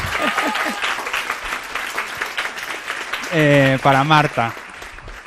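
Audience applause for Marta, a volunteer speaker at a design event, rising as a broad burst of clapping and crowd noise that runs under a speaking voice from start to finish.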